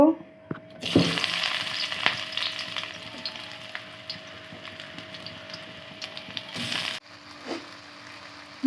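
Onion drops into hot oil in a wok and bursts into a loud sizzle, then settles into a steady frying hiss with scattered stirring clicks before it cuts off abruptly.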